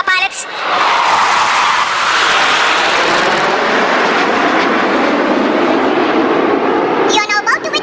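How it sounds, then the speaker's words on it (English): Sukhoi Su-30 MKI fighter jets roaring through a low-level air show display over Marina Beach, Chennai, a loud sustained rushing jet roar that swells and holds, with a crowd or announcer audible at the edges. "You are now about to witness a low-level aerobatic display by the Sukhoi 30 MKI Astula."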